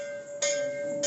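A small metal prayer bell rung during a Hindu puja at home, two bright struck tones with a sustained ringing hum between them, close and clear.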